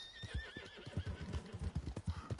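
A horse in the Red Dead Redemption 2 video game clip-clops in quick rhythmic hoofbeats while letting out a high whinny over the top, all faint and close.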